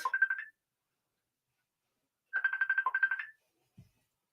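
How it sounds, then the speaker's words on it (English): An incoming phone call ringtone on a talk show: a short warbling trill, a pause of nearly two seconds, then a longer trill of about a second, followed by a faint click. "we have a phone call coming in"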